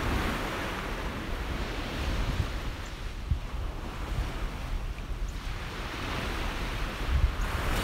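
Loud ocean surf rolls onto a beach in continuous washing waves, with gusty wind buffeting the microphone throughout and no talking.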